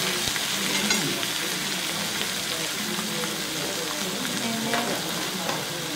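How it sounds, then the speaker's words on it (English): Beef sizzles in a hot pan for Kansai-style sukiyaki, a soft, steady frying crackle heard up close and moderately quiet, with faint stirring and no talking. "she's doing it Kansai style, so she's going to cook the meat first"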